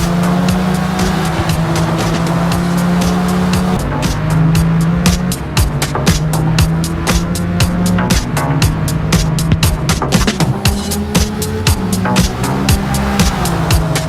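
Two 2017 all-wheel-drive twin-turbo V6 sports cars, a Honda NSX and a Nissan GT-R, racing at Suzuka in a video game, with loud, steady engine drone that shifts pitch through gear changes alongside a dense rapid ticking.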